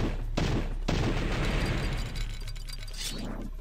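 Rapid gunfire bursts ring out while shooting enemies in the game Powerslave Exhumed, played in VR, with sharp blasts and glassy clinks giving way to a lingering, fading rumble.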